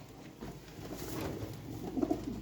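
Pigeons coo in low, rounded murmurs, with a few soft calls clustering toward the end over a quiet room background.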